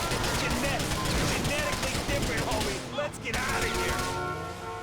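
Gunfire and explosions in GTA IV, a dense, loud barrage of rapid shots and crashing blasts that runs nearly continuously before easing slightly toward the end.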